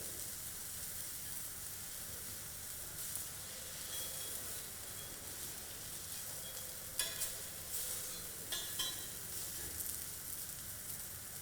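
Fish coated in curry-leaf masala pan-fries in a little oil with a steady close sizzle and hiss, broken by occasional spatters and scraping stirs.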